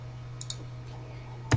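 A few quiet computer keyboard key clicks sound over a steady low hum, ending in one louder tap.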